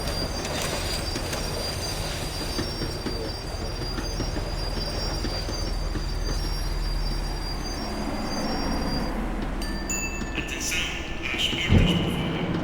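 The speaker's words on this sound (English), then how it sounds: "The tram was slowing down, and I'd only just gotten on board." A tram in Max Payne 3 slows down with a continuous rumble and rattling wheels on rails, under shrill high squeals of braking metal that sharpen toward the end, capped by a brief clunk.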